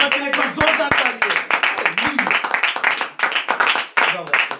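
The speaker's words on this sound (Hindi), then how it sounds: "जोरदार तालियां।" A church congregation bursts into dense, loud applause, with rapid overlapping hand claps and voices mixed into the clapping.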